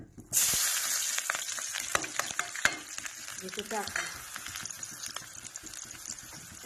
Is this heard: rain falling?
no